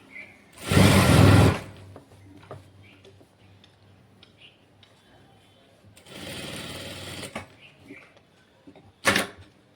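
A sewing machine stitches a silk saree umbrella frock in three bursts: a long loud run, a later steady stretch and a brief final whirr, with quiet handling sounds between.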